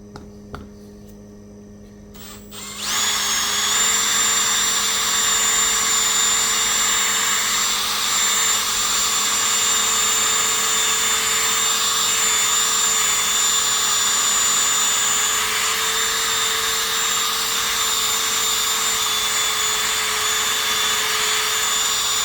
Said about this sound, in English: We're just going to polish down this section here.